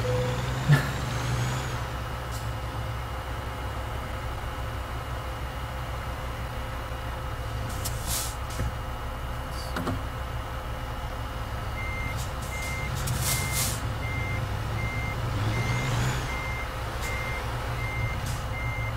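A truck in American Truck Simulator backs in, its reversing alarm beeping repeatedly over a constant low engine idle, with short bursts of air-brake hiss.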